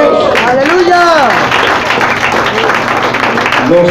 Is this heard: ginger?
no